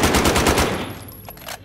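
A gun in the Call of Duty: Modern Warfare video game fires a rapid burst of about six loud, close shots. The burst stops abruptly, and a couple of fainter clicks or rattles follow.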